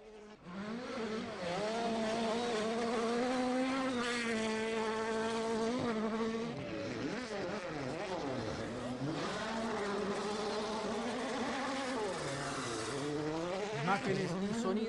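A World Rally Car races past in a rally stage: a faint, distant engine drones and shifts pitch through gear changes over about fifteen seconds, with a few high whining passes.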